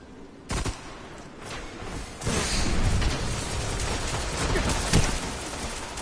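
Gunfire rattles in a Destiny Crucible match, several sharp shots cracking out over a dense, continuous backdrop of battle noise, with one loud report near the start and another toward the end.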